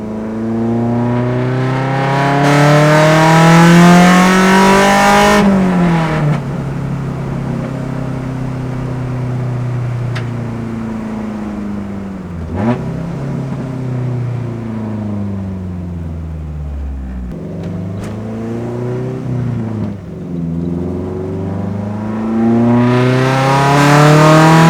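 A car with a B20 VTEC engine swap accelerates hard through second and third gear, engine climbing loud and close through each rev range and dropping at the shifts, with no talking.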